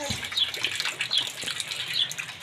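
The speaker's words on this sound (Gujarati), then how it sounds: "વરસાદ હજી પણ ચાલુ છે" Heavy rain pouring steadily close by, a dense continuous gushing and splashing of water throughout, with no talking.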